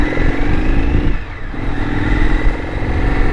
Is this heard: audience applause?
no